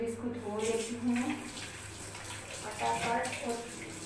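Running tap water splashes steadily as something is washed by hand, a continuous moderate wash of water with a voice speaking over it.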